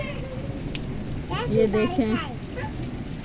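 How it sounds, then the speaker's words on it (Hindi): Heavy rain pours down in a dense, steady hiss while a voice speaks briefly over it. "बहुत जोर की बारिश हो रही है।"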